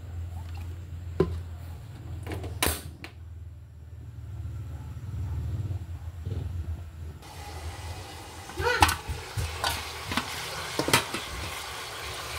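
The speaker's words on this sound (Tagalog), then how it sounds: "Ayan guys, kumukulo na po yung mantika." Low sizzling and crackling of cooking oil heating in a pan, with scattered pops and clinks, growing brighter and busier in the second half.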